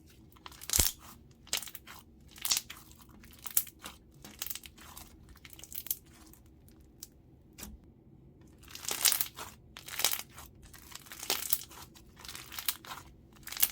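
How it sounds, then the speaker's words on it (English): Crunchy slime squeezed in the hands gives off bursts of crackling, popping crunches like Rice Krispies, close and crisp, arriving in irregular clusters with quiet gaps between them. "you could just hold it and you could just hear the crunches"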